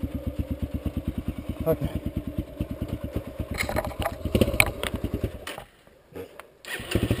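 A motorcycle engine idling in first gear gives a fast, even chugging pulse that rises briefly, then cuts out for a moment before resuming; a person speaks briefly over it.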